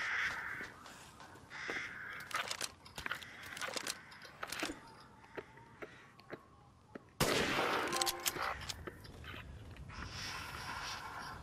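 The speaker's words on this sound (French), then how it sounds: "Ah, ça c'était un corbac" Crows cawing repeatedly in Resident Evil Village, sharp harsh calls scattered over dark ambience with distant gunfire-like bursts, one loud burst of noise midway.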